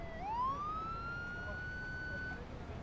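Police car siren in the Beat Cop video game: a single rising wail that climbs and then holds a steady high tone for a couple of seconds, loud and up close.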